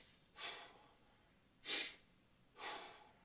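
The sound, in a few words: shallow breathing demonstration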